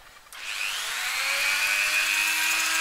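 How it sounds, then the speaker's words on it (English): A grinder cuts chin cuts into an airsoft pistol slide, starting with a brief clunk and then settling into a loud, high, steady whine that holds close and constant with no talk. "All you do is you grab your grinder or whatever and move in ever so slightly."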